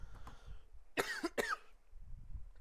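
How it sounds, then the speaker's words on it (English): A man coughs twice in quick succession, harsh and close, a rough throaty burst with a short gap between the two coughs, set against faint low background noise. "Gotta have some water, especially when I cough like a dying frog."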